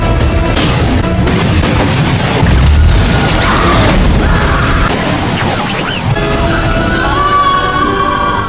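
A bomb explosion in the Van Helsing movie, a loud, sustained rumbling boom with crashing debris that fills the whole stretch, with no talk over it.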